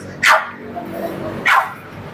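A male Pomeranian at an outdoor pet market gives two sharp, high yapping barks about a second apart, close and loud over a low background murmur.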